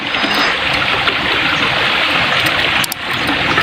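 A creek where horses come to drink, its water flowing in a steady, loud, close-up rush and trickle that carries on unbroken throughout, with no voices.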